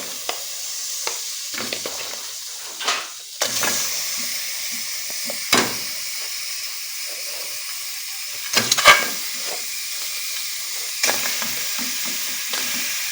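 Fish sizzles in a hot pan, a steady close frying hiss with occasional clatter and scraping as pieces are placed and moved, no voices.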